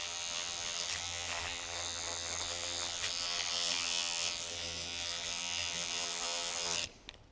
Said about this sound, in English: your hair's in my clippers. You hear it?